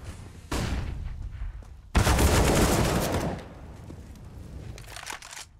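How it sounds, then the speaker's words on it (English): Gunfire rings out in a Counter-Strike match at a WePlay Academy League play-in grand final: one long burst, then a louder, denser volley lasting over a second that fades away, with no talk heard. "Shot landed from Regali's bathrooms."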